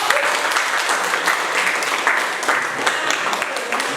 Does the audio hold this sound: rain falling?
no